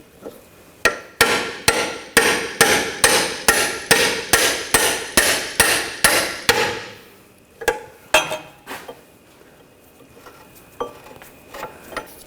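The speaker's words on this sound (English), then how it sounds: "using a punch, just hammer this bolt out" On a 2000-2006 BMW X5 rear wheel hub, a hammer drives a punch to knock a bolt out: about a dozen sharp, ringing metallic blows in steady rhythm, then a pause and a few scattered, lighter taps.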